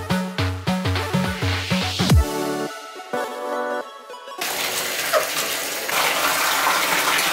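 Cold water runs from a tap while a fursuit is washed, first preceded by a few seconds of plucked, twangy musical tones, then a steady hissing gush of water for the last few seconds.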